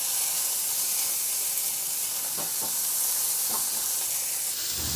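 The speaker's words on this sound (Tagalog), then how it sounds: "igisa ko na rin yung kamatis" Onion and tomato sauté in oil in a pan for pork tokwa't baboy, a steady dense sizzle with a few soft stirring scrapes, close and continuous.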